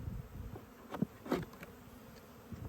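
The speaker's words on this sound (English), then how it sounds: "These are good bees." Honey bees buzz around a long-abandoned hive opened for inspection, a faint steady drone with a few closer, louder passes of single bees flying by.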